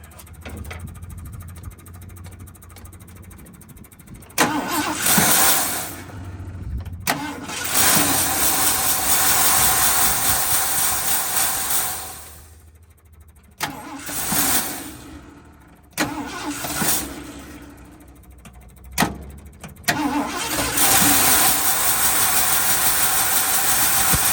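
An abandoned Ford F350 truck, left unused for 22 years, cranks and fires several times with loud, close bursts of engine noise broken by short pauses, then settles into an idle.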